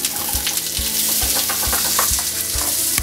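A courgette and goat's cheese omelette fries in oil in a pan, giving a loud, steady close sizzle with regular low knocks, like a pan being shaken or tapped, roughly twice a second.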